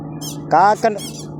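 High, thin squawking calls from crow chicks, a few short bursts close by with a steady low hum underneath.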